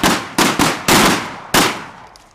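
A Benelli M4 combat shotgun fires five loud, close shots in quick, slightly uneven succession, each a sharp crack trailing off into a brief echo.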